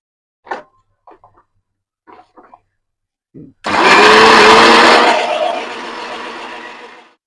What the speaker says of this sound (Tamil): கருவேப்பிலையை நம்ம குட்டி குட்டியாக அரைஞ்சிக்கலாம்.